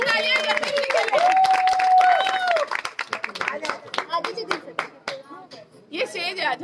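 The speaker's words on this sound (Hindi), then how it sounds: "जोरदार तालियां" Scattered audience clapping at a staged motivational seminar event breaks out as sharp, uneven claps in the second half, following a loud voice with music and crowd chatter at the start.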